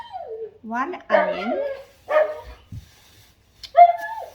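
A small pet dog yips and whimpers in a home kitchen during dinner preparation, several short close bursts of high barking with breaks between them and no talk over it.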